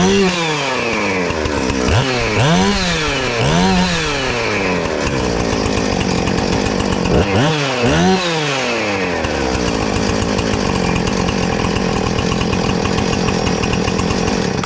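A Husqvarna 455 Rancher chainsaw runs after a carburetor rebuild, idling loudly between several sharp revs that rise and fall, with two quick bursts near the start and two more midway, alone and close.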